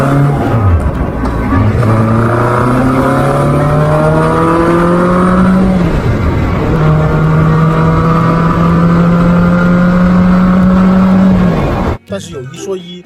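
A Benda LFC 700 motorcycle's four-cylinder, water-cooled four-stroke engine runs loud and close while riding, its pitch climbing steadily through the gears with shifts near the 2- and 6-second marks before cutting off abruptly near the end.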